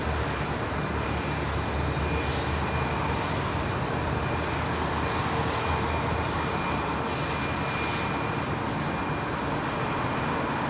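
Japan Airlines Boeing 787-8 jet departing London Heathrow runway 27R, a loud, dense, unbroken engine roar filling the whole stretch at close range with no voices over it.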